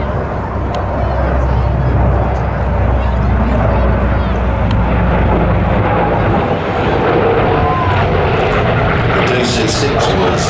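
A Douglas DC-6 and a North American B-25 fly together in tandem at an air festival display, their piston engines a steady, loud droning roar throughout, with a commentator's voice talking over it.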